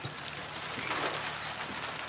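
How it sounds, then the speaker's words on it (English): Hail clatters down during a wet day at a motor racing event, a steady dense patter of icy pellets on surfaces, fairly close and continuous with no voices. "Look at all this hail."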